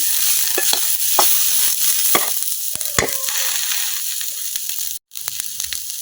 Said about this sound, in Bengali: কিছু কিছু মরিচ হয়ে গেছে, পেঁয়াজ রসুন সবকিছু কিন্তু হালকা ভাজা হয়ে গেছে। তো আমি আর একটু ভেজে নেব।